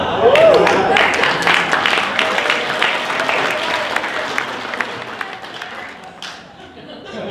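Audience clapping at a chamber of commerce chairman's ball in Gainesville, a steady round of applause filling the room with a voice briefly rising over it at the start, then fading slightly toward the end.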